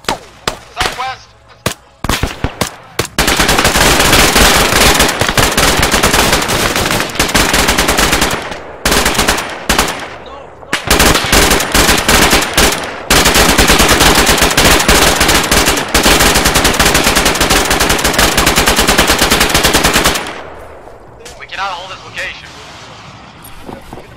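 Machine gun fire in the combat video game Jagged Alliance, long loud sustained bursts with short gaps, ending abruptly before quieter ambience. Voices call out in places.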